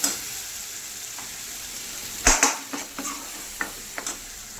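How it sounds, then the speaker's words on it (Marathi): Masala paste sautéing in a pan for a paneer dish, a soft steady sizzle broken by several sharp spatula scrapes and clanks against the pan, close up and without any voices. "आपला मसाला छानपैकी परततोय बघा"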